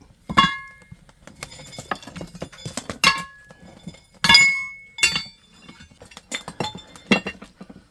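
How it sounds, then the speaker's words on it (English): Metal pieces clink and clatter as they are stacked onto an umu fire for outdoor cooking in Niue, a series of sharp, ringing knocks at irregular intervals, close and fairly loud, with no talking. "then you just start adding on your metal or your rocks, but we just mainly use metal"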